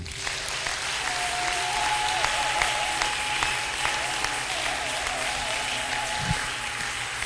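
A church congregation applauds at a service, with sustained dense clapping from a large crowd that carries on without a break and keeps a loud, even level throughout.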